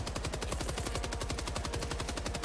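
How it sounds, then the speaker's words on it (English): Rapid automatic gunfire in a video game, a fast, even burst of loud shots repeating for about two seconds with no talk over it. "Bro was shooting at you and I died."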